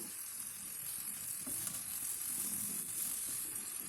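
A teaspoon of crushed ginger and garlic sautés on a medium flame for a Kerala-style mutton curry, producing a soft, continuous hiss and sizzle with a few faint stirring touches and no voices.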